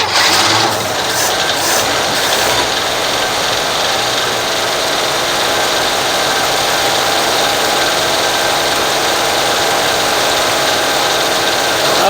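Engine of a 1957 Chevy idling while warming up, a loud steady rumble with a buzzing mechanical whine, a few sharper bursts at the start, then an even drone throughout with no talk.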